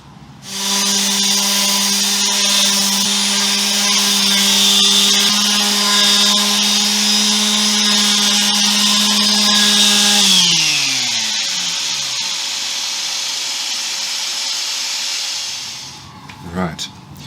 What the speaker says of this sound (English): I've used these ceramic sanding discs which get worn out over time